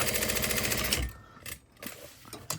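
A domestic sewing machine stitches a crossbody bag in a steady mechanical run for about a second, then stops, leaving only faint handling noises and light clicks in a quiet room.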